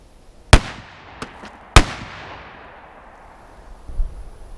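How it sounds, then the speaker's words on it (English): A Stevens double-barreled 12-gauge shotgun with cylinder bore barrels fires double-aught buckshot: two loud, sharp blasts about a second apart, each trailing off in a ringing echo, followed by a few faint clatters. "let's try this Stevens double-barreled 12-gauge shotgun with cylinder bore barrels"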